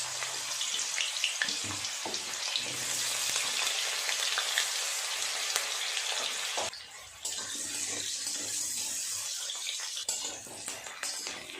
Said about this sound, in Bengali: তেল দিয়ে সবজিগুলো আগে ভেজে নেব